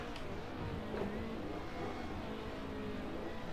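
Race car engines drone steadily through a circuit race in the Assetto Corsa driving game, a constant low motor roar with an opponent car close alongside, with no talking.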